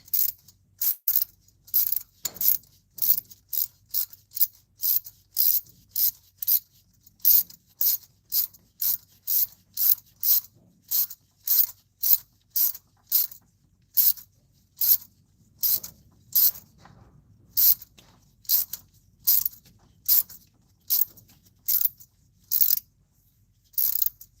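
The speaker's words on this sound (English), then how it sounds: "the ratchet hasn't been hitting any weird spots like I thought it was" A ratchet clicking as it turns a tap chasing head stud threads on a 1996-2005 Chevy Astro, dozens of short rapid bursts of metallic clicks in a steady rhythm, close and crisp with quiet gaps between strokes.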